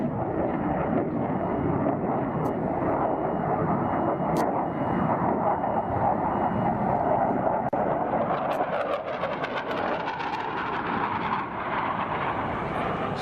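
An Avro Vulcan jet bomber roars loudly and continuously overhead at Doncaster Airport, a dense, rumbling engine blast that swells and shifts in pitch, with wind buffeting the microphone.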